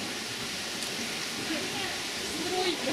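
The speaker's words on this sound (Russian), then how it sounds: "Так, вон водопад. Ну что-то это больше на ручей похоже," A small waterfall in Cyprus, hardly bigger than a stream, gives a steady, close rush of falling water that holds constant throughout, with faint voices in the background.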